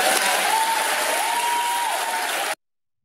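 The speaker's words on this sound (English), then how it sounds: "NPCs clap now." Studio audience applause on the TV talk show The View, a continuous wash of clapping at moderate loudness that cuts off abruptly after about two and a half seconds.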